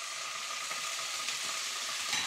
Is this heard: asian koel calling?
no